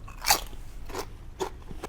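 Doritos Golden Sriracha tortilla chips are bitten and chewed close up: one sharp crunching bite, then a few softer crackling chews spaced out, with no talking.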